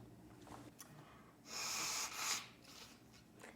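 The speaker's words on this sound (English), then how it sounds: "I'm about to blow my nose if we want to mute the mic." A person blows their nose once, a loud wet burst lasting about a second after faint breathing, close to the microphone with no talk.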